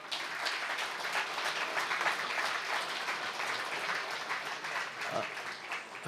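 Steady audience applause for Ludvik at a municipal celebration in Kuzma, continuous clapping from a gathered crowd, moderately distant and even throughout.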